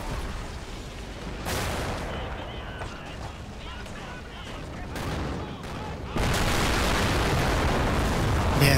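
Explosions and gunfire in Men of War: Assault Squad 2, a game battle at the gates of Warsaw: dull booms and crackling shots rumble through, then a louder, harsher burst of blast noise takes over near the end.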